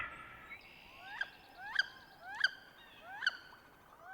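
Birds call on farmland near Kaplan in Vermilion Parish, four clear, close, repeated calls at roughly even intervals against a quiet background.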